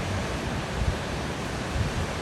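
Ocean waves wash steadily onto a southern California beach at night, a continuous broad rushing surf with soft swells, close and fairly loud, with wind buffeting the microphone and no voices.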